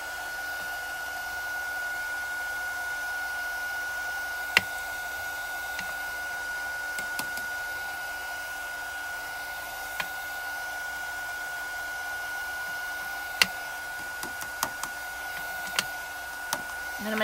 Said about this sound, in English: I am going to turn my heat tool on, just kind of hold it in my lap while that warms up.